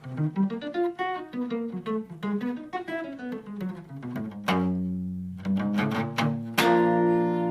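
Jazz guitar plays a chord cycle built around B natural, with plucked notes moving in a descending run. These give way to sustained, ringing chords struck firmly near the end. No talking is heard.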